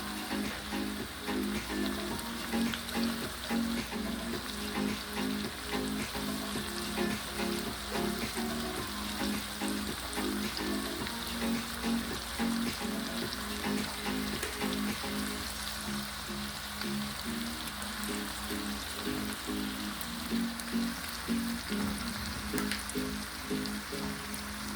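Jamaican fish fries in hot oil with a steady, dense sizzle and crackle that runs unbroken throughout, fairly loud and close, with no voices.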